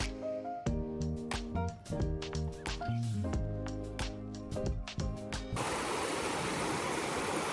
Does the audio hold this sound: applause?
no